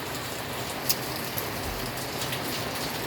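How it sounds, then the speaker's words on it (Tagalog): Steady rain patters on a tarp wrapped over a tricycle, a dense, even hiss of drops with a few sharper taps and no voices. "Umuulan kasi kaya"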